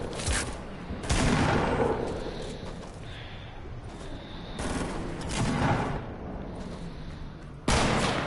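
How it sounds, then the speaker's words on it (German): A grenade going off in a first-person shooter video game, a sharp loud blast followed by rumbling bursts and scattered gunfire, then another sudden hit near the end, with no voices. "Das war eine Granate."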